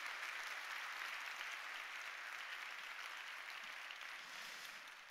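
Church congregation at an evening revival meeting applauding volunteers, a continuous wash of many hands clapping, fairly distant and even, tapering slightly toward the end.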